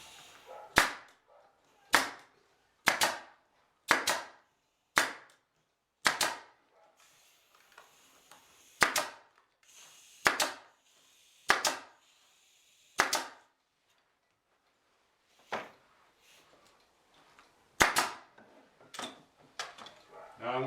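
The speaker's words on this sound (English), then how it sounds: "Take the stapler, and I'm going to fire a row of staples right across that inside corner." A pneumatic or manual stapler fires a row of staples into a carpet stair runner on an inside stair corner, giving sharp, close, evenly spaced clacks with short pauses, a few later shots more irregular.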